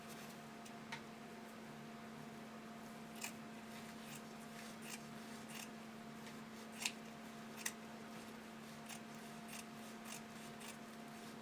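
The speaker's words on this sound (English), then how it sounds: "I just trim back any excess fabric that extends beyond my stitching line" Scissors snip away excess fabric beyond the stitching line while sewing hipster panties, a few faint, sparse clicks and cuts over a steady low hum, close by and without speech.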